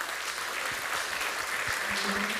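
An audience at a vineyard biodiversity conference claps for itself, continuous lively applause with a few nearer, sharper hand claps and a brief voice rising over the crowd near the end.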